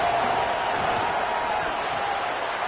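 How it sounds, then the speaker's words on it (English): Dense, steady roar of a football stadium crowd cheering during a tense third-down play in the red zone, loud and continuous with no clear breaks. "this crowd is at fever pitch"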